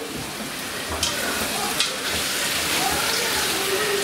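Steady, loud sizzling of tomato paste frying in a hot pan fills the whole clip, with a couple of faint clinks of stirring.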